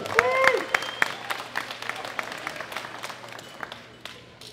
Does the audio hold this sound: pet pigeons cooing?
no